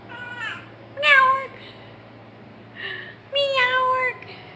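A stray cat meows several times in Bahrain, loud and close, with a quieter mew between the louder calls.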